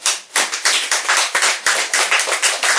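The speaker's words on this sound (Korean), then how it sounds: "오히려 박수 치니까 기분 좋아" An audience claps together in a steady, dense burst of hand claps lasting a few seconds, close and loud with no talk over it.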